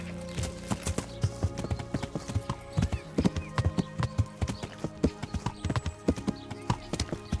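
Rapid, rhythmic clip-clop of horse hooves in the video game Kingdom Come: Deliverance, loud and close, with a steady tonal background hum underneath.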